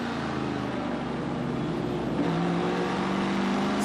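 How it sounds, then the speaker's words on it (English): A CASCAR Super Series race car at JAGFlo Speedway roars on board, a loud continuous engine drone with steady harmonic tones that shift pitch as the throttle changes partway through. "Just take a listen to this engine."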